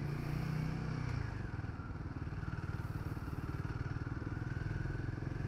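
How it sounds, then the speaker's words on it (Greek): A Royal Enfield Himalayan 450 motorcycle ridden through city traffic gives a steady, close engine thrum with a rapid pulsing beat and a low drone underneath, continuous throughout. "το μηχανάκι περνάει άριστα μες στην κίνηση"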